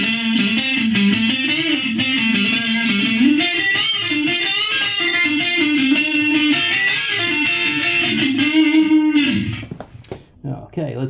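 Electric guitar played through a digital distortion effect, sustained buzzy notes and bends ringing out continuously for about nine seconds before cutting off into scattered quieter sounds.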